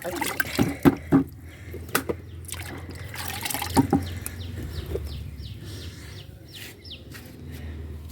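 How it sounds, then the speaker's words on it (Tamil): Rasavalli tubers (purple yam) being washed in water by hand, with close splashing and sloshing in several bursts, then softer trickling and dripping, while a rooster or other birds call faintly in the background. "நல்லா கழுவிட்டு காமிக்கிறேன்"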